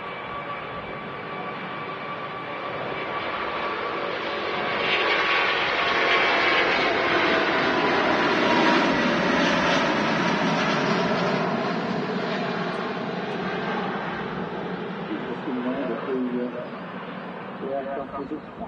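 An Emirates Airbus A380 lands at Manchester Airport. Its jet engines make a broad, continuous roar that swells toward the middle and slowly fades, with a voice talking over it.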